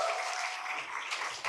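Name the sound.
audience applause at a literary event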